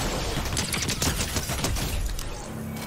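Weapon fire in Fortnite Chapter 4, shotgun blasts and a quick weapon swap fired at a target about ten meters away: dense, loud, continuous overlapping shots filling the whole stretch with no pauses.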